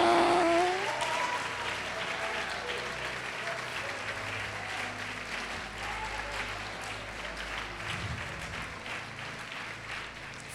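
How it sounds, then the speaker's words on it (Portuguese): Church congregation applause rolls on steadily for several seconds, strongest at the start and then easing slightly, with a short voice or shout briefly cutting through early on. "Pode aplaudir e"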